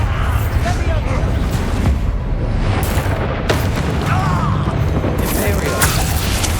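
A Bombarda explosion spell goes off amid Hogwarts Legacy combat, a dense rumbling blast in a steady wash of battle noise, with sharp cracks and effects scattered throughout and a voice talking over it.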